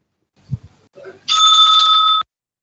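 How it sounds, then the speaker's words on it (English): A single sustained electronic bell tone from a debate timekeeper's bell rings for about a second, loud and steady, after a few brief soft thumps. "The bell will be ringing once"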